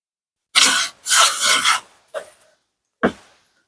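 A pencil scrapes along a square onto wood for a toy Ford Model A, giving two longer rubbing strokes followed by shorter scratchy marks, close and clear with no talking.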